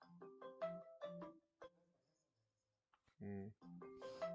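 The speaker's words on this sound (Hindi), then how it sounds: "ससुराल से फोन आ रहा है।" A mobile phone ringtone for an incoming call plays as a bright electronic melody of repeated short tones, a little faint, with a voice briefly cutting in between the phrases.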